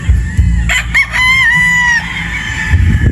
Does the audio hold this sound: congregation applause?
no